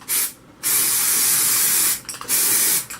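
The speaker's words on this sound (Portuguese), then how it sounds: "Eu vou pegar um pouquinho de shampoo spray, que se você aplicar ele bem próximo do cabelo," Spray shampoo hisses from a can in short bursts close to hair, three sharp jets separated by brief pauses, loud and up close with no talking.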